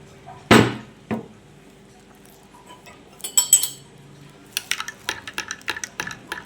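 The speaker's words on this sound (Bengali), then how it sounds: "তাই আমি একটু চামচ দিয়ে একটু নেড়ে নিলাম" A spoon stirs a smoothie in a glass, making a run of light, rapid metallic clinks near the end, after an earlier heavier thump and a few scattered clatters.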